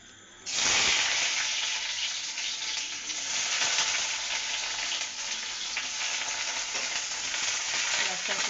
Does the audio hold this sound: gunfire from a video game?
no